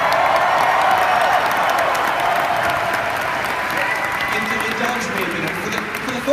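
Large convention crowd at a Star Wars Celebration opening ceremony in Anaheim applauding and cheering, a loud dense wall of clapping and whoops that holds steady throughout.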